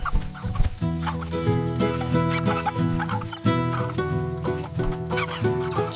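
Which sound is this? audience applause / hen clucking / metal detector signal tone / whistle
hen clucking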